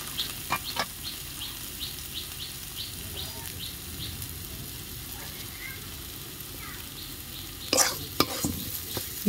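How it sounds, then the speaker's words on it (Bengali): Ol data curry is stirred with fried poppy seed and peanut powder. It gives a soft, steady frying hiss under repeated scraping stirs, faint bird chirps sound in the background, and a burst of louder clattering comes near the end. "এবারে ভালো করে মিশিয়ে নেব।"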